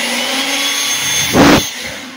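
A steady, loud whooshing roar of a blower running up close, swelling briefly in a gusty surge near the end.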